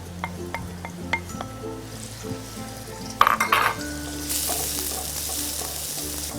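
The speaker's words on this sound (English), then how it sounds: "To my oil, which is nice and hot now, I'm going to add my 2 onions" Finely chopped onions hit hot oil in a pan with a loud, steady sizzle that swells and holds, after a few light clinks and stirring sounds at close range, with no talking.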